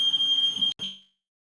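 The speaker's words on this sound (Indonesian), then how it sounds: "Jadi kalau udah kelebihan asap dikit kita alarmnya nyala soalnya ya" An indoor smoke alarm, set off by a little excess smoke, sounds a loud, steady high-pitched electronic beep that cuts out abruptly, with a brief faint blip before the sound fades to silence.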